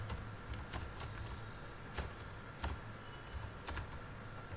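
Computer keyboard typing in short bursts of clicky keystrokes, with a few sharper key strikes standing out over a steady low hum, close and moderately quiet.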